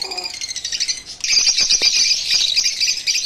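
Lovebirds in an aviary, chirping and calling close by, with rapid high tweets and squawks forming a dense, continuous chatter after a brief opening call.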